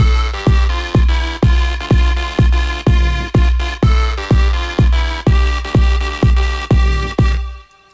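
An electronic kick drum thumps steadily in quarter notes, loud and punchy, under sustained synth chords in a house production; the beat stops and the chords fade out at the end.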